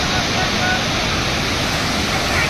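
Water roars down Lonavala waterfall in a swollen, fast current, a dense, loud, unbroken rush that fills the whole scene with steady noise.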